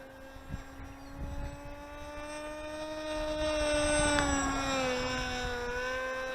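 A Rambler-X FPV flying wing RC plane at under half throttle passes low on a windy day. Its motor gives a steady propeller whine that swells as it comes closer and then shifts in pitch, with wind rumble underneath and no voice.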